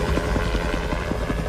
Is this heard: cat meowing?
no